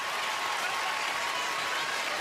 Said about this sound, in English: You see Williams and Izzy Besselman and Zakiya Johnson clapping it up for the freshman